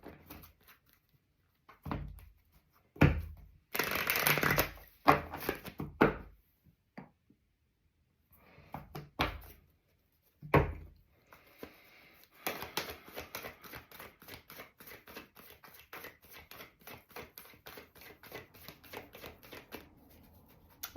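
A deck of tarot-style reading cards is shuffled and handled in near silence: scattered soft taps and a dense riffling burst early on, then a long stretch of rapid, light flicking clicks toward the end.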